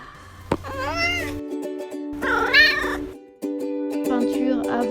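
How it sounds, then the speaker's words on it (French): A house cat lets out several loud, drawn-out meows in separate bursts with short pauses between them, close by, over a faint steady background hum. "Le chat qui passe, tout va bien, il est en plein quart d'heure de folie."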